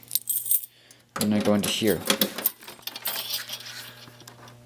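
A bunch of keys jangles close by while someone searches for them beside an electrical panel, a bright metallic jingle in quick bursts that gives way to someone speaking.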